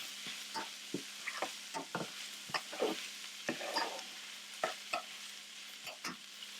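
Food for a classic shepherd's pie cooks in a pan with a soft, steady sizzle, punctuated by repeated clicks and taps of a spatula stirring at close range.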